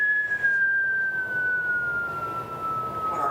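A single long whistled note glides slowly downward in pitch, steady and fairly close, over faint background noise.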